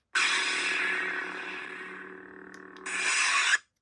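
A Count Dooku Neopixel lightsaber running its unstable blade effect gives a steady, loud crackling buzz for about three seconds that thins out briefly, then surges back to full strength before cutting off.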